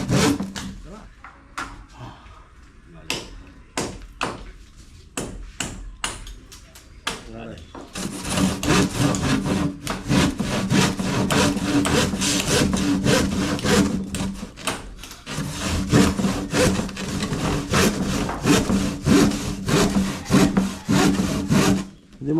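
A handheld grinder cuts into wood with a harsh rasping buzz, starting as a string of short bursts and then running in a long, loud continuous grind, with people talking nearby.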